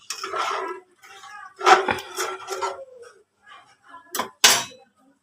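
Metal pots and pans clank and rattle in a home kitchen where dal is cooking, a series of close, sharp knocks and scrapes with short pauses, the loudest bursts near the end.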